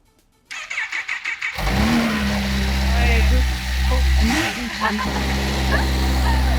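A Kawasaki motorcycle starter cranks in quick rhythmic bursts, then the engine catches and settles into a steady, rumbling idle close by.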